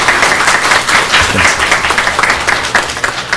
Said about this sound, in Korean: 여러분 세 분 한꺼번에 박수로 환영해 주시기 바랍니다.